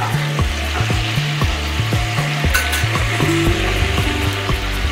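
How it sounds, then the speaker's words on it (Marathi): Oil and butter sizzle steadily in a hot pan for pav bhaji, a loud, continuous frying hiss with a regular knocking pulse of the cooking vessel running beneath it. "अगोदर तेल टाकायचं मग बटर टाकायचं"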